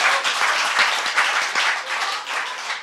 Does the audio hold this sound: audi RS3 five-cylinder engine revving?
no